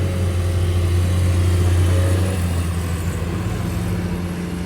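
A heavy diesel engine of a Komatsu PC210-10M0 hydraulic excavator rumbles steadily at a low idle, close by and continuous, with a slight rise and fall in pitch.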